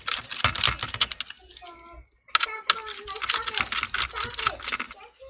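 Screws being backed out of an HP Chromebook's underside during a battery swap, giving a run of quick, close clicky ticks and scrapes with a short quiet gap partway through, and talk off and on.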